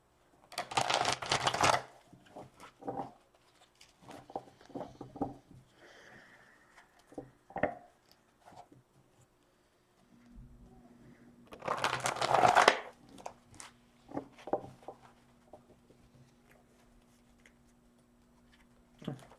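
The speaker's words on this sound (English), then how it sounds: "One more shuffle." Tarot deck shuffled by hand in a few quick riffling bursts with softer card taps and handling sounds between them, close and fairly quiet, with no voice.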